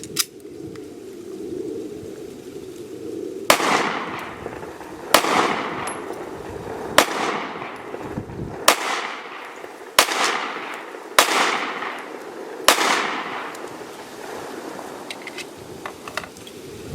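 Seven shots from a Remington R51 pistol crack out one by one at uneven intervals, sharp and loud, each ringing out over steady wind noise outdoors.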